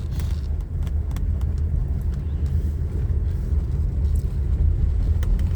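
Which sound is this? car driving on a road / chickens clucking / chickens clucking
car driving on a road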